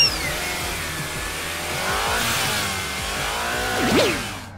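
Small toy cars launched down a track during family play, giving a light whirring rush that builds and ends in a quick swoosh, close and fairly loud with no talk.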